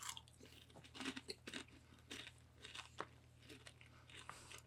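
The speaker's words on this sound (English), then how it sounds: "It's a riveting video to watch me chew" Someone chews a crunchy, chili-seasoned snack close to the microphone, with irregular crisp bites and crunches followed by softer wet mastication over a faint steady hum.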